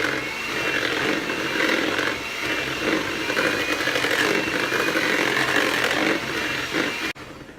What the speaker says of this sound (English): blend that together for about a minute or two.